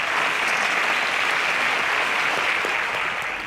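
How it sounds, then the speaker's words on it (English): Studio audience applauding a contestant on a televised quiz show, a steady dense wash of clapping at constant loudness that eases slightly at the end. "A round of applause for Blossom."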